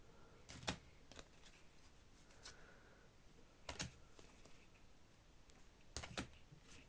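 Tarot cards are handled and leafed through very quietly, with soft sporadic flicks and shuffles in small clusters against a near-silent room.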